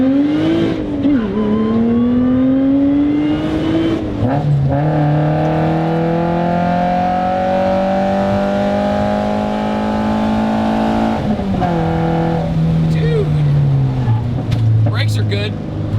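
A Toyota MR2 Spyder's small economy engine revs and holds a steady high drone, pitch rising and falling with throttle changes, loud and close throughout.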